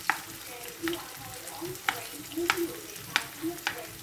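Sliced onions and carrots fry in a pan while sweet and sour fish is being cooked. A soft sizzle runs underneath, broken by several sharp utensil clinks and scrapes from stirring at irregular intervals.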